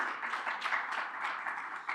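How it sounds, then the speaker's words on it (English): Audience applause for Charlotte after her introduction at a panel on private finance for biodiversity; a steady, moderately quiet wash of clapping that holds evenly for the whole two seconds. "Round of applause for Charlotte."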